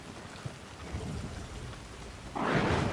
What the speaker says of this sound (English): The rain's still coming through, even though I've got a roof over my head.